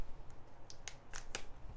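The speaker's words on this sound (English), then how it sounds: "If I can open this up, needs more scissors." Scissors snip at a trading card booster package, a few quiet, sharp cuts spaced irregularly over low background noise.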